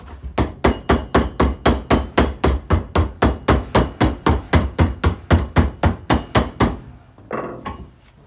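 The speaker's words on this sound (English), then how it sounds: "Just give it a gentle knock with the hammer." Hammer knocks repeatedly on a leather boot being reshaped during restoration, about two dozen evenly spaced, close, solid taps in a fast steady rhythm, followed by a brief softer rustle.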